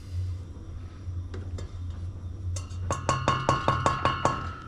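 A metal utensil clinks and scrapes against a jar while peanut butter is scooped out for a peanut butter pie, a run of quick, bright taps near the end over low kitchen hum.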